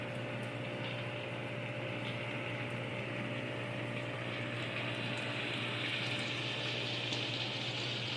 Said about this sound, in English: See how hard that's boiling? That's perfect.